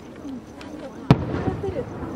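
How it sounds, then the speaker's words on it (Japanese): A single sharp firework bang booms out amid crowd murmur and faint crackling at a traditional fireworks event in a valley ringed by mountains, with a softer pop following shortly after. "そして後ろで打ち上げられる花火も"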